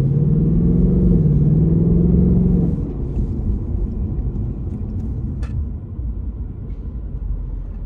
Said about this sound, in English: Some kind of traffic.